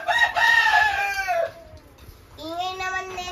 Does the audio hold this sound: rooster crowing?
yes